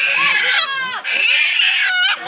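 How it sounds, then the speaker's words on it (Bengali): Chickens clucking and squawking at a busy market stall, several short harmonic calls rising and falling in quick succession, fairly close with light background bustle. "মুরগি"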